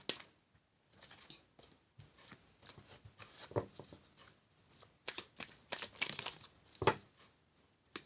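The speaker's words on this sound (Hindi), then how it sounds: "अरे आज बहुत कार्ड क्यों नीचे गिर रहे हो तुम लोग?" A tarot deck shuffled by hand, with dense crisp riffling and flicking bursts, soft slaps as cards spill and drop, close and fairly quiet throughout.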